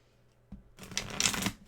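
Tarot cards being shuffled, a single close riffle that builds into a brisk, crisp flutter of papery slaps lasting about a second, with no talking.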